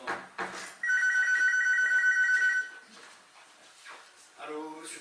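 An old-style telephone bell rings in two long trilling bursts, close and clear, with brief voices and rustling around it and a muffled murmur afterward.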